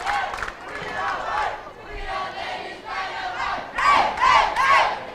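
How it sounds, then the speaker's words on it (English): Crowd cheering and shouting at a girls' team bowling championship final, Denmark against Norway, a loud broad roar swelling in waves and peaking near the end, with a commentator talking over it. "And the crowd like it."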